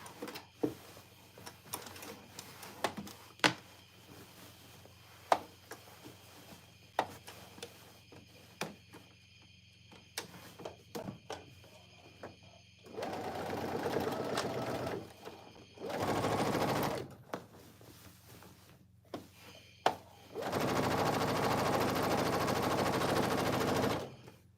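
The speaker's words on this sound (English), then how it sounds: "let me go ahead and do that little top stitch on it" A sewing machine top stitches cargo pants, first in scattered short clicks and taps, then in three sustained loud runs of rapid stitching separated by pauses, close up with no talk.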